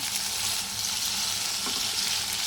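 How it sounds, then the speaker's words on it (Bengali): Spice paste for a jackfruit and prawn curry sizzles steadily in oil, a dense, even frying hiss with faint stirring scrapes throughout, close and continuous with no talking. "দেখো বন্ধুরা সুন্দর তেল ছাড়তে শুরু করেছে আমার মশলা বেশ ভালোভাবে কষানো হয়ে এসছে"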